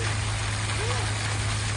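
Water sprays steadily out of small fountain holes in a hiss that holds even throughout, close and fairly loud, with a low steady hum beneath.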